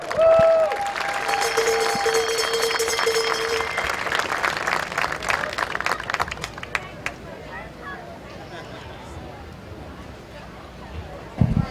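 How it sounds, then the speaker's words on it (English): A crowd at a Midvale Speedway Hall of Fame ceremony claps for an inductee, a former race car owner. The applause is fairly distant and fades over the first several seconds, with a hum and other background noise around it. "Dale, how about a big round of applause for him?"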